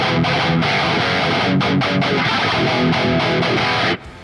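Dense, heavily distorted electric guitar chords played in a steady rhythm through the Archetype: Gojira X amp plugin, with a reverberant wash around them, ending abruptly near the close.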